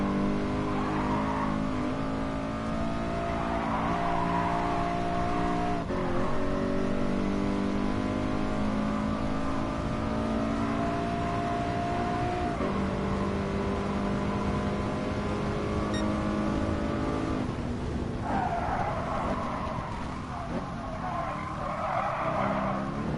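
Race cars roar through a Gran Turismo Sport race, engines droning and shifting pitch as they speed along, with tire squeal and skidding layered in, loud and continuous throughout.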